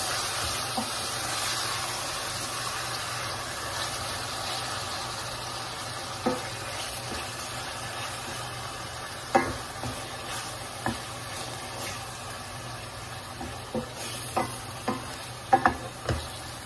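Minced beef qeema fries in a hot pan, giving a soft steady sizzle while a ladle scrapes and taps the pan in scattered, sharper knocks and no one talks.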